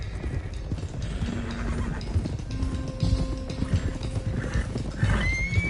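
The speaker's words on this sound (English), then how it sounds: "let's get these horses to Clemens Cove quick before we run into any more trouble" Horses gallop in the Red Dead Redemption 2 video game, a dense continuous clatter of hooves with whinnies and neighs, under busy game sound and background music.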